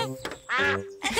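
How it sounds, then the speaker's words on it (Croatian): Cartoon ducks at a Peppa Pig picnic give three loud, nasal quacks in quick succession, close and alone. "To su patkice. Uvijek se pojave kad smo na pikniku."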